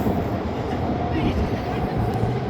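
A SkyTrain Mark III train rolls past on its rails, a steady loud rumble with wheel noise sustained throughout, close by, and no clear talking over it.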